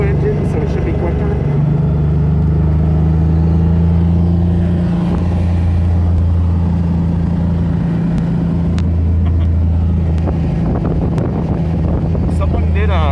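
A custom Porsche slantnose cabriolet with a 3.2 engine drives along, its steady low engine drone and road rumble continuous throughout with wind buffeting over the open top, and occasional faint talk beneath.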